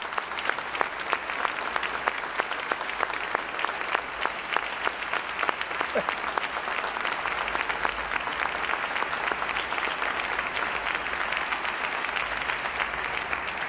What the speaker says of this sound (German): jetzt meine ich, hat es auch noch mal einen besonderen Applaus verdient,